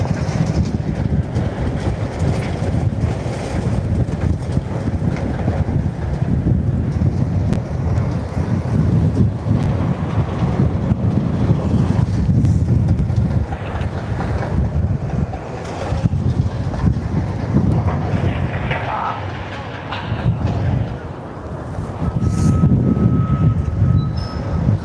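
Strong wind from the north gusts across a demolition site of an old police station in Blackpool, buffeting the microphone with a steady, loud low rumble that swells and eases without pause.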